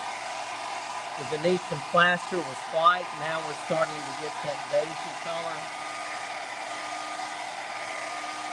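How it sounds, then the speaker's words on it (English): A hair dryer blows steadily on freshly applied Venetian plaster in an aged oak finishing job, a constant close whooshing hum that runs the whole time beneath a person talking. "And we're going to do a little hair dryer action."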